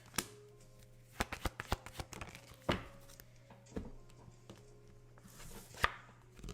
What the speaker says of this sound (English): I always do a pre-shuffle just to see if the same type of energies will come out